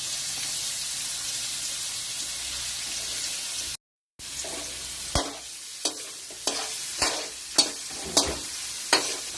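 Garlic and hotdog sizzle and fry in a pan while being made into Filipino garlic fried rice, with steady hissing broken by a brief gap and a series of sharp stirring scrapes and clacks, close and alone without talk.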